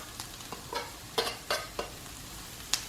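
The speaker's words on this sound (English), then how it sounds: "We're going to add the garlic and cook that for another 30 seconds or so." Garlic and browned onions sizzling in olive oil in a sauce pot for green chili stew, a faint sizzle broken by several distinct scraping stirs of a utensil, spaced irregularly.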